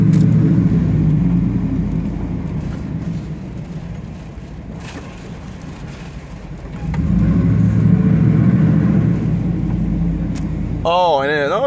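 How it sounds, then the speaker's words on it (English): A Chevrolet Yukon with a straight-pipe exhaust gives a deep, loud, rumbling drone that dips and then swells into a heavier rev partway through. A short burst of voice comes at the very end. "I guess you could think of this as a before and after video of the exhaust."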